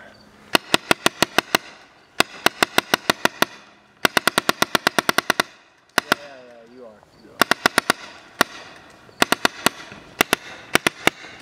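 A paintball tank fires paintballs in rapid sharp bursts of several shots each, loud and close, with brief gaps between bursts and a voice briefly heard in the middle.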